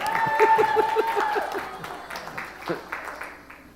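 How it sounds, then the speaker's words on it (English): A modest round of applause from a small audience for a pastor, with a voice speaking over the clapping at first before the applause thins and fades out. "A big round of applause for the pastor."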